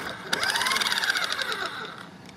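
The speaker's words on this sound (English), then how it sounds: "It's a weird clicking noise." A JLB Racing Cheetah Extreme RC car makes a rapid, high, ticking whir from its rear, a short burst of fast mechanical clicking that rises and then fades over about two seconds.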